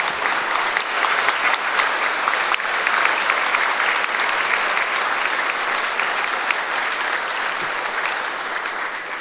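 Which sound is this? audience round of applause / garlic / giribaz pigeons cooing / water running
audience round of applause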